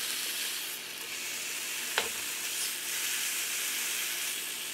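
Bacon strips fry in a pan for BLT egglets, a dense, continuous close sizzle with one brief clink of a utensil near the middle.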